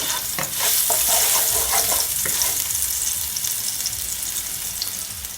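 Ginger sautéing in a hot pan for teriyaki, a loud steady sizzle with scraping stirs near the start, close up and continuous without any speech.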